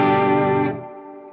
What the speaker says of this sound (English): The main mode is this kind of nice reverb sound.